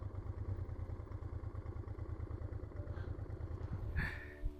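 Honda TransAlp 650 motorcycle with a new engine idling at a roadside in Denmark, a close, steady low chugging pulse, with a brief clatter and a small rise near the end.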